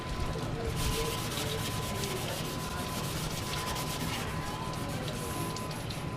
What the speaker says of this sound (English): You want to scrub all this burnt stuff while the oil's hot.